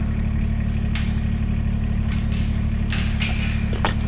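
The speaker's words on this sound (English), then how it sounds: "Got the tractor going." A tractor engine idles near a goat barn, a steady low mechanical drone throughout with a few brief higher clanks and knocks over it.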